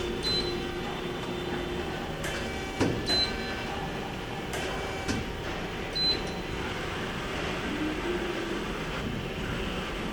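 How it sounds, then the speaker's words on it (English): A Kia SKT-15LMS CNC turning center runs under a steady mechanical hum while its turret indexes, giving a few brief clunks and clicks spread over several seconds. "There we go, turret index."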